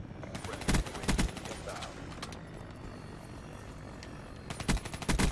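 Call of Duty Black Ops 3 multiplayer gunfire aimed at airborne killstreaks, sharp bursts of shots near the start and again at the end over a steady droning engine hum.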